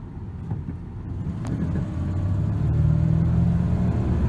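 A 1995 Ford F150 engine idling low, a steady close rumble that swells slightly louder and fuller partway through, with no talk.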